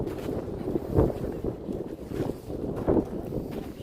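Gusty wind buffeting the microphone in low rumbling surges, swelling twice, with no talking, on Mount Fuji before sunrise.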